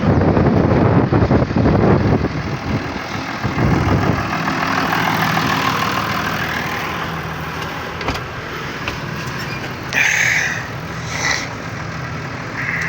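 Strong wind buffets the microphone in a steady broadband rush, with low rumbling gusts that swell and ease throughout; no one speaks.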